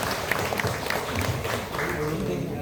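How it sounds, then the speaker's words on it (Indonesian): Applause for Haji Suyadi, a retiring school coordinator, at a farewell ceremony in Sadui district; sustained crowd clapping of steady loudness with some talk mixed in. "Boleh berikan aplaus yang meriah untuk beliau."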